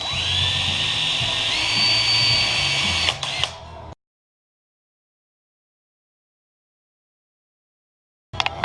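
A power drill bores through an aluminum xylophone bar guided by a drill bushing, a steady high whine close by that shifts pitch once, then stops abruptly and leaves silence before a brief clatter at the end.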